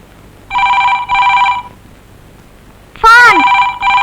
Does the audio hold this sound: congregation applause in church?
no